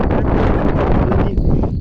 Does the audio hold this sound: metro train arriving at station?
no